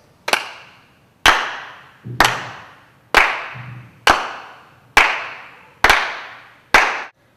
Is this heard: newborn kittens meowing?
no